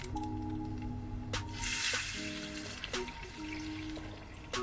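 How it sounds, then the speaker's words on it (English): A spoon stirs tomato paste into water in a pan during vegan quinoa jambalaya cooking in a van, giving soft wet squishing and sloshing with a few light clinks against the pan, quiet and close. "we're gonna stir this tomato paste in till it break up and it turn real saucy"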